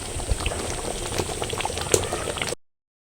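Pointed gourd gravy bubbles steadily in a pan, a close, continuous simmer of small popping bursts that cuts off abruptly before the end.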